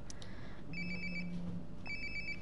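Cell phone ringing from inside a toilet in Life is Strange: Before the Storm, two bursts of a bright electronic trill with a soft buzz beneath, fairly close and alone, with a pause between rings.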